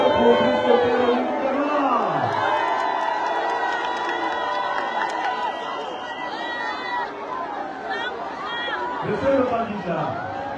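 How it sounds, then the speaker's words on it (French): A campaign rally crowd in Lastourville cheers and chatters loudly and continuously, with shouts rising over a dense babble and a voice carrying through the noise. "Applaudissons pour Christophe Oligui."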